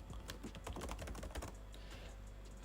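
Steady typing on a computer keyboard as a name and card number are entered into a bank withdrawal form, quick irregular key clicks, close and fairly quiet, with no talking.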